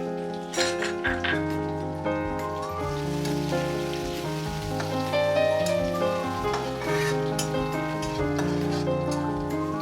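Chopped ginger frying in hot oil in a pan with cumin, a steady close crackling sizzle running without pause, with an instrumental music track playing over it throughout.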